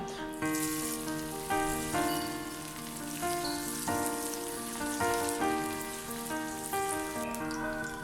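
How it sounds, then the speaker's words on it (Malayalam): Chicken pieces fry in hot vegetable oil for Chicken 65, a dense crackling patter like rain, steady and close with no voices. "എണ്ണ നന്നായി ചൂടായി വന്നാൽ അതിലേക്ക് ചിക്കൻ്റെ പീസസ് ഒന്ന് നന്നായി ചേർത്ത് കൊടുക്കാം."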